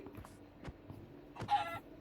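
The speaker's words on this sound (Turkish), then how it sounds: "Tavuk var." A chicken clucks a few times in Minecraft, short soft game-sound bursts at moderate level, with faint background ambience and no speech.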